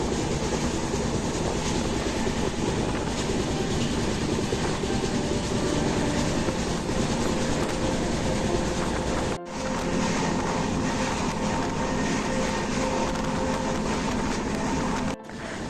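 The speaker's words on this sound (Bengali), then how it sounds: "ট্রেন কিন্তু এখন যাচ্ছে চিল্কা হ্রদের উপর থেকে।" The Vivek Express train rolls steadily over Chilka lake with a constant, close rumble and clatter of wheels on track. Two brief gaps break the noise.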